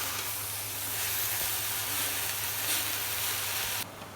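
Raw red amaranth greens hit hot oil in a pan and fry with a steady, bright sizzle and hiss, close and continuous until it cuts off near the end, with no voices.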